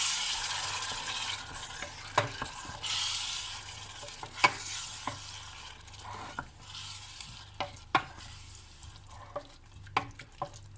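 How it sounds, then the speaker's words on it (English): Tomato being stirred into a hot sizzling pan for baked beans chutney, with a steady frying hiss and sharp scrape clicks of a utensil against the pan recurring every second or so, close and alone. "What we can do is add in the tomato. Give that a good stir,"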